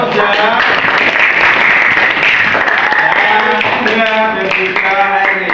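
A classroom group applauds students after a post-test in a teaching-practice lesson, with clapping spread through the clip and mixed with voices talking over it.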